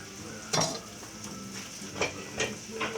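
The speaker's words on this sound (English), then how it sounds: "Braise that meat real good inside there with the onions." Beef and onions fry in a stew pot with a low, steady sizzle, and a wooden spoon stirring them scrapes and knocks against the pot several times at close range.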